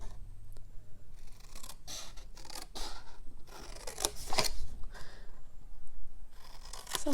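Scissors snip rectangles out of scored paper card, a series of close, crisp cutting strokes with paper rustling between them, no talking.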